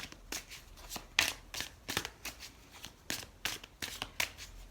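A crystal oracle card deck is shuffled in a steady run of about a dozen crisp riffling bursts, close and fairly quiet, with no voice.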